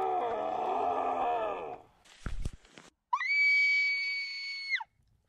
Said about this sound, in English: Her scream is ear piercing.